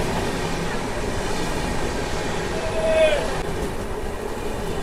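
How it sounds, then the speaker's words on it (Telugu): Chennai Central to Howrah Mail Express train passing, a dense, loud continuous roar of rolling stock with a brief squealing tone near the middle, heard from close by. "సో ఈ ట్రైన్ వచ్చేసి చెన్నై సెంట్రల్ నుంచి హౌరా వెళ్ళే మెయిల్ ఎక్స్ప్రెస్ ట్రైన్ ఇది."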